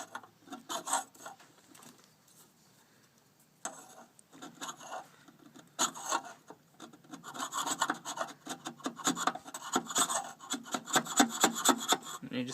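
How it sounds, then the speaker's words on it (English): A flat chisel scrapes an old head gasket off a Victa push mower engine's mounting surface in short rasping strokes, sparse at first and then quicker and louder, with close gritty scraping. "You have to go slow and be sure not to scratch the mounting surface. Make sure your chisel is as flat as it can be."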